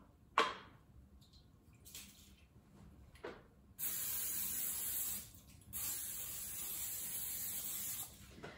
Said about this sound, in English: And I want to go ahead and oil my plate. So I have a spray.